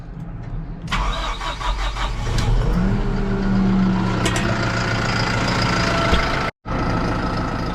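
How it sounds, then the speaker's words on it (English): Farm tractor engine on a hay field cranking over and catching, then settling into a steady, loud mid-pitched idle with a rough mechanical rattle, briefly cutting out for a moment before resuming. "Get the tractor fired up."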